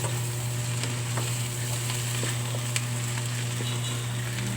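Ginisang yellow mung beans with pork, salt and MSG being stirred in a pan, a steady close sizzle under soft scraping and light clinks, with no talking.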